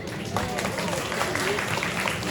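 An audience at a Balinese bondres comedy show applauds, a dense wash of clapping from a crowd, with voices talking over it throughout.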